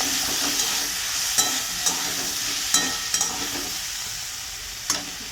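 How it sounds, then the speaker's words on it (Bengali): Sliced onions fry in a pan with a steady sizzle while a spoon stirs them, leaving several sharp scraping knocks at uneven intervals, close up and without speech. "আমার পেঁয়াজ ভাজা হয়ে গেছে।"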